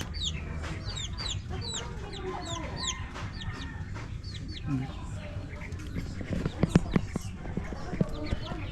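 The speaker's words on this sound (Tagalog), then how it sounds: "Manok." Several chickens cluck and chirp nearby, with high peeping calls early on and sharper knocking sounds toward the end.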